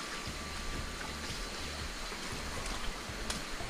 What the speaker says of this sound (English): We're just walking up to the waterfall.